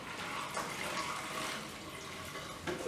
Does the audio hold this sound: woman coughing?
no